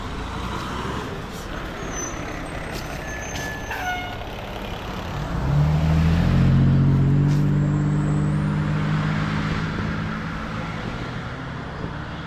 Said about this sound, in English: Fire truck driving around here where No Name Pond is.